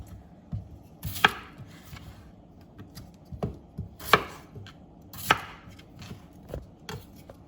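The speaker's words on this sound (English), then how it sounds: "we're gonna leave the skin and you just wanna go ahead and cut it in 4s" A knife chops raw potatoes into quarters on a cutting board, with irregular sharp thuds and a few crisp board knocks spread over several seconds, close and fairly quiet, without speech.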